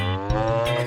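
Cartoon dairy cows in a cowshed give a loud, drawn-out moo lasting about a second, deep and richly toned, with a slight shift in pitch partway through and no voices over it.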